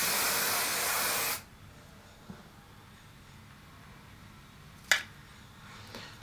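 An aerosol can of hairspray hisses onto a hair fringe in one steady burst lasting over a second, fairly loud and close, followed by quiet handling and a couple of small clicks.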